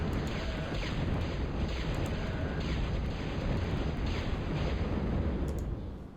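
Missile ships strike a base in the strategy game Total Annihilation, a dense continuous roar of explosions and burning, loud and steady throughout with no talk.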